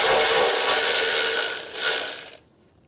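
A 13mm socket ratchet clicks rapidly and loudly at close range on bolts of a 2019 BMW's rear bumper beam, a dense continuous ratcheting that fades out and stops abruptly near the end.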